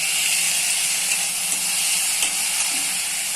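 Onions sauté with a little salt in a pan for a kara kuzhambu, a steady, close hissing sizzle broken by a few faint stirring scrapes, with no talk over it.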